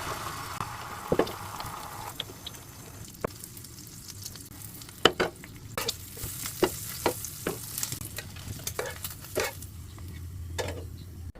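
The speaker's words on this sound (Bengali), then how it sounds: "এই ফাঁকে ডিম ভাজি করে নেই।" Eggs frying in a pan, a quiet steady sizzle with scattered sharp ticks and pops of spattering oil, close and low in level.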